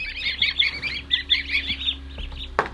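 Busy chattering and quacking of a farm flock of twenty ducks and four geese, steady and fairly close, ending with a louder honk-like call.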